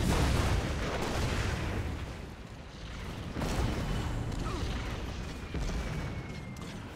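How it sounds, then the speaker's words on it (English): Bombs dropped by bombers in the video game Red Alert 3 rumble as loud, dense booms and blasts that run continuously, with sharper bursts standing out near the start and middle. "Bombs getting dropped."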